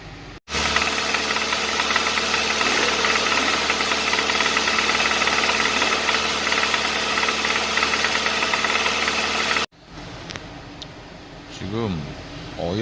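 A car engine with a knocking fault runs steadily and loud for about nine seconds, a dense mechanical drone with rapid knock. It then cuts off abruptly, and quieter background sounds and a brief rising tone follow.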